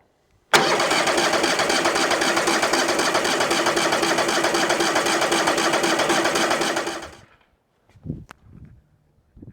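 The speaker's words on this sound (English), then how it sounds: "it's gonna take us a minute of cranking probably to suck fuel up from the tank and get it into the carburetor" A sawmill engine cranks over without catching: a loud, steady, rapid churning that runs for about six seconds, then winds down and stops, with a few faint knocks and clatters after.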